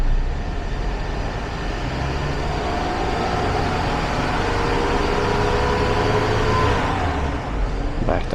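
Mercedes Sprinter van engine held at raised revs of about 2,800 to 3,500 RPM during a 9-speed transmission service: a steady, loud, droning engine note with mechanical rumble, sustained throughout and easing slightly near the end.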